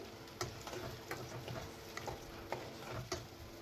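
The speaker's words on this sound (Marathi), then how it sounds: "या कांद्यांना छान असं परतून घ्यायचं आहे आणि या कांद्यांना शिजू द्यायचं आहे छान असं फ्राय होऊ द्यायचं आहे" Chopped onions sauté in a pan for a sprouted moth bean curry, giving a soft, even sizzle broken by a few quiet spatula scrapes and taps, faint and fairly close.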